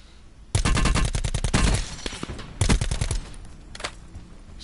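A teammate's automatic weapon fires in rapid bursts in the Blackout battle royale mode, two loud close volleys followed by a few fainter scattered shots.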